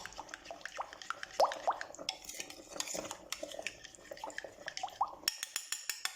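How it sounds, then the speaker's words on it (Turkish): A ladle stirs yogurt soup sauce for şehriyeli yoğurt çorbası, with frequent metal clinks against the pot, light liquid drips and stirring swishes, near and fairly quiet. A sharper run of clinks comes at the end. "Çorbamızın suyundan sosumuzun içerisine şöyle 2 kepçe kadar alıyorum. Güzelce karıştırıyorum."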